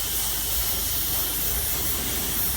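A steady, close spray of paint coats a figure at a live convention painting demo, the airbrush hiss running unbroken and fairly loud from start to finish, with no speech.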